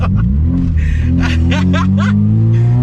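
A street-tuned Honda Prelude revs hard and launches, a loud, steady engine drone rising in pitch with wheelspin, while people chatter and laugh over it.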